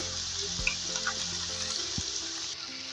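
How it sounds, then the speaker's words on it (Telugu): Spice masala frying in oil for an Andhra fish curry, a soft continuous sizzle with faint stirring scrapes and a brief knock of a utensil against the pan. "మసాలా మొత్తం వేసుకొని ఇలా ఆయిల్లో 2 మినిట్స్ ఇలా బాగా ఫ్రై చేసుకోవాలి"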